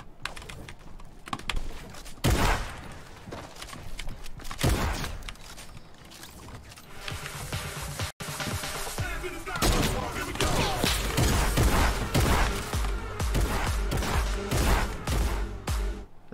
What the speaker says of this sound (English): The shotgun does so much damage, long range.